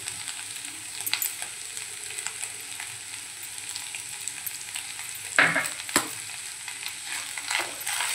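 Boiled potatoes for a yellow potato bhaji are stirred and mixed in a hot pan with salt and coriander, giving a steady close sizzle with scraping strokes and a couple of sharper knocks from the spoon.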